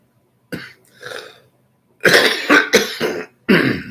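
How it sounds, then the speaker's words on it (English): Several loud, close coughs, a couple of softer ones first, then a rapid cluster of harsh hacking coughs. "Pardon me as I cough."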